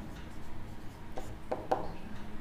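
A pen on paper during a handwritten maths solution, faint short scratching strokes at close range, a few quick marks over a low room hum.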